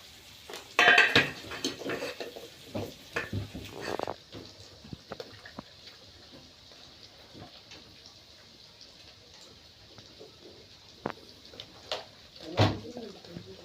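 Spatula stirring food in a pan in a village kitchen: clattering metal scrapes and knocks, busiest early, then sparse taps and clinks over a quiet background with faint bird calls.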